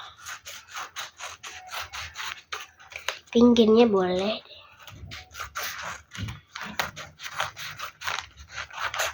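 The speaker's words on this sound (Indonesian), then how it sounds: "Tinggal kita gunting deh kalau yang nggak cukup." Scissors snipping squishy paper in a rapid series of crisp cuts with a short pause in the middle, close and clear, while someone talks over them.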